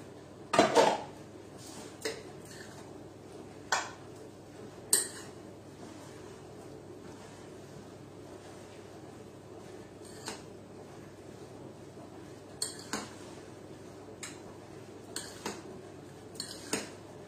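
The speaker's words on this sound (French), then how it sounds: "Je vais mélanger tout ça." A spoon stirs a bowl of chicken nem filling mixed with vermicelli and soy, giving sparse, faint clinks and scrapes against the bowl with quiet pauses between them.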